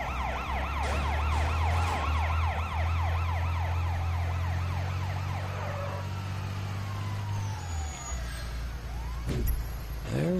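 Police car siren in the video game Sleeping Dogs, a loud wailing siren sweeping up and down over a droning engine that fades as the siren tails off.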